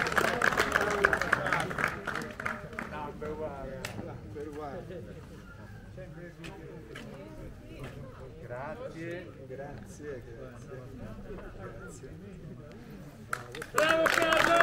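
A small crowd at a trap shooting competition claps and applauds a winner in bursts. The applause is mixed with chatter and background voices, grows louder near the start, and rises again sharply at the end.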